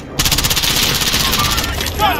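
Rapid automatic gunfire in Call of Duty Warzone rattles in a steady, loud, close burst lasting about two seconds, with voices and radio chatter mixed underneath.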